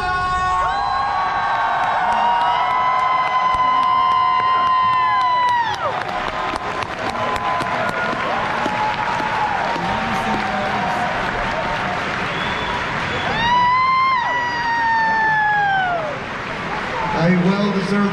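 A crowd at the Anthrocon 2024 Fursuit Dance Competition erupts in loud, sustained cheering, whoops and applause for the winner, with shouting voices rising and falling over continuous clapping.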